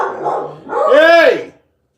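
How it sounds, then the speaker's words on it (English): Dogs bark close and loud: a low rough bark followed by a long, high, tonal bark that cuts off into silence. "These dogs ain't even nothing to bark at."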